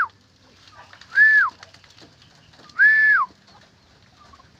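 Pet bird calling from a rooftop, two clear rising-falling whistled coos about two seconds apart, fairly close and loud over a quiet background.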